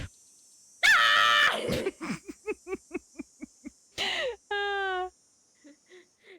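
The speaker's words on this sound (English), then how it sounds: "That's what red-tailed hawks sound like. They just scream." A red-tailed hawk screams in a Nancy Drew video game, with loud harsh bursts alongside a run of short repeated calls and a clear tonal cry, all close and alone.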